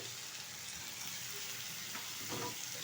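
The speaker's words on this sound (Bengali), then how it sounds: "ভালোভাবে সবগুলো উপকরণ একসাথে কষিয়ে নেব" Spices with chili powder and salt sautéing in a pan for a potato and pointed gourd curry, giving a steady, soft sizzle with faint stirring scrapes throughout.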